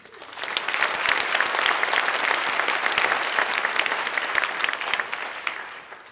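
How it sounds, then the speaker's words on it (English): Steady, enthusiastic applause from a crowd at an annual meeting and membership banquet, building quickly and sustained for several seconds before tapering off. "Please join me in one final round of applause for all of our volunteers"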